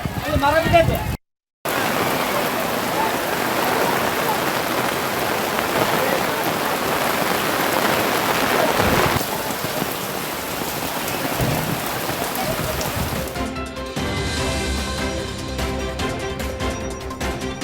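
Heavy rain pours down in a steady, loud, dense hiss during a storm in Kamalapura, broken by a brief silent gap near the start, with the texture shifting toward the end.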